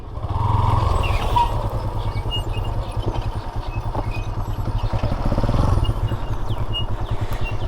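A Yamaha FZ motorcycle rides down a hilly trail, its engine running with a steady, close, low rumble that swells and eases over the whole stretch, with faint clatter and no clear talk.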